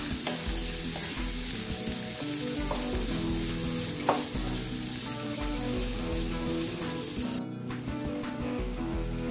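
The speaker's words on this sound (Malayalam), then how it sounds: "നന്നായിട്ടൊന്ന് വഴറ്റിയെടുക്കാം." Onions sautéing in a pan for a coconut-free fish curry, a loud steady sizzle with intermittent spatula scrapes and taps, close by with no talking.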